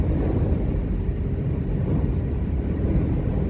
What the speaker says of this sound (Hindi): इतनी आंधी है, कुछ भी नहीं दिख रहा।